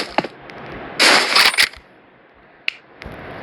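Gunfire from a sniper in the Rivals video game: a sharp crack, then a loud burst of rapid shots, followed by two more isolated cracks, heard up close with no talking.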